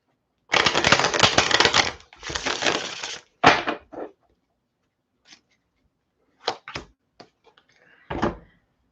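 Tarot cards are shuffled in a few long riffling bursts, then single cards are slapped and slid out one by one in short, close, crisp snaps separated by silence.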